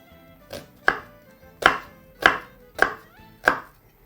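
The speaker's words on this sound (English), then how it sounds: "slice through the center and proceed to chop that into some small cubes" Kitchen knife chopping vegetables into small cubes on a cutting board, six sharp separate thuds at a steady, unhurried pace, close and clear with no talk.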